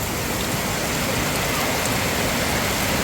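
Heavy rain pours down during a storm in Laos, a dense, steady hiss of water that stays loud and unbroken throughout, with no voices.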